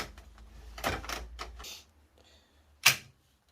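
Carriage of a Toyota KS901 knitting machine sliding across the needle bed, a short run of dry mechanical clacks and rattles followed by a single sharp click, close and fairly quiet.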